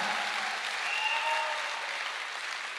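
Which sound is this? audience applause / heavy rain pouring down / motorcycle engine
audience applause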